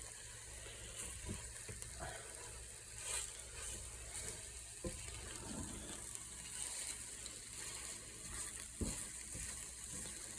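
Food frying and being stirred in a pan on the stove, a soft continuous sizzle with occasional scraping clicks of a utensil, fairly quiet and steady.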